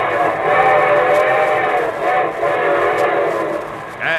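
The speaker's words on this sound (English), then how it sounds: "And here comes our star-studded show train." A radio show's train sound effect: a steady rumble of rolling rail cars under a loud, sustained steam-style whistle. The whistle swells and fades over a few seconds, and there is no talking.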